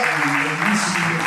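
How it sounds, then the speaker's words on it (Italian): Audience applause at a startup competition presentation event in Cortina, a dense steady clatter of clapping hands filling the room with a voice speaking over it. "il vero applauso va a Gianluca, va a Serena"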